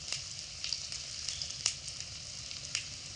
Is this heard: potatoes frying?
yes